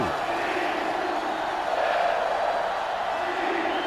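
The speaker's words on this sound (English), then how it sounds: "this crowd is going absolutely insane" A stadium crowd in the NCAA Football 2005 video game, NC State against Florida, roars loudly and continuously, a dense sustained wall of cheering.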